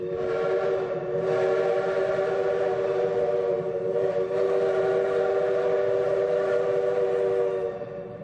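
Steam locomotive No. 45 sounds a long steady whistle, a loud multi-tone blast that holds for about eight seconds with a brief dip near the middle, over faint rail rumble and no talk.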